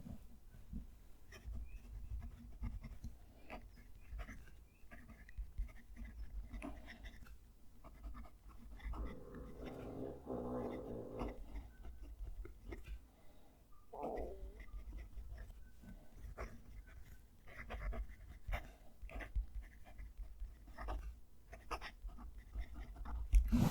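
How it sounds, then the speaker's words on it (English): A Jinhao x350 fountain pen nib scratching across paper while a sentence is written, close-miked, faint and slightly scratchy, with intermittent soft strokes over quiet room noise. "Let's move the mic down to the page and we'll write a sentence."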